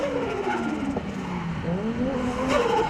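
A Toyota Cressida drift car slides through a run with sustained tire squeal and skidding over a loud engine, the pitch sweeping as the car nearly spins and recovers, close and continuous without speech.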